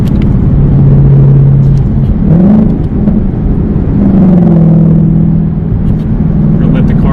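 A car engine hums and rumbles steadily from inside the cabin, its pitch rising and falling as it accelerates, with a voice speaking over it.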